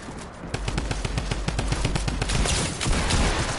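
Rapid automatic gunfire in Fortnite, a dense stream of loud shots that keeps going across the whole stretch and stays steady and close, with no talk over it.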